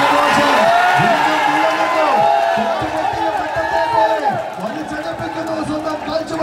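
Spectators roar and cheer at a tug of war quarter-final between Kavitha and Grand Star. The crowd noise is loud and continuous, with a commentator speaking excitedly over it throughout.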